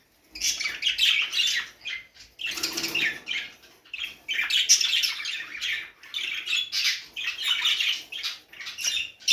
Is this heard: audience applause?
no